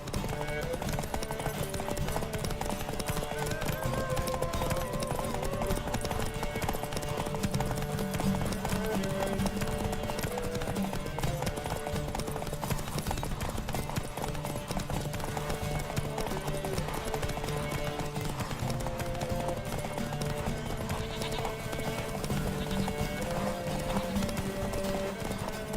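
Roach, the horse in The Witcher 3: Wild Hunt, gallops with a fast, continuous beat of hooves under a constant bed of game music and ambience, with no talking.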